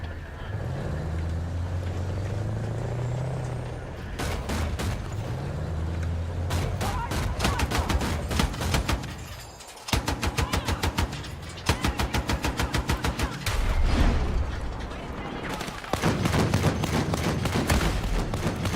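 Gunfire rattles through a Battlefield 6 match: long automatic bursts and rapid volleys, some close and loud, with a vehicle engine droning underneath throughout.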